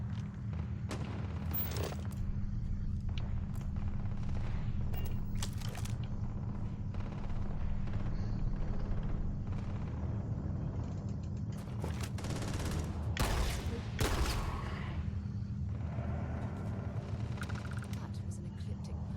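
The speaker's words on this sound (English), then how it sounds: "That's gunfire." Gunfire in the Starfield video game, a rapid burst of shots and impacts over a steady low rumble of game ambience, moderately loud with a few sharper bangs mid-sequence.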